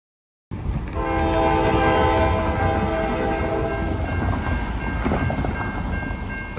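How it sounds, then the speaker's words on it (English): Norfolk Southern first responders training train passing close by: a loud rumbling roll of wheels on rails with a sustained horn blast early on, continuing as a steady heavy clatter of passing cars. "How cool was that first responders train?"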